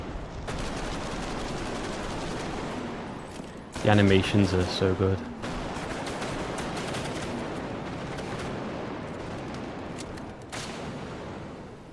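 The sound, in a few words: video game gunshots with organic reverb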